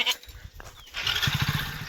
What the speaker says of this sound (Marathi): एवढ्या मेंढ्या आहेत, काही शेळ्या पण आहे मिक्स